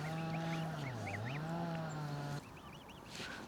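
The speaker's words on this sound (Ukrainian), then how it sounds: "ви здорові ж гуски" Geese honk and call nearby on the Bug river in November, a long wavering tone followed by quicker repeated honks over a low background rumble.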